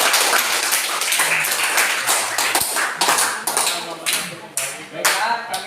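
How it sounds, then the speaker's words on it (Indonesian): A small group in a classroom claps after a group presentation, loose and uneven hand claps that swell and fade in ragged bursts, close by, with a few louder individual claps standing out. "kita beri tepuk tangan"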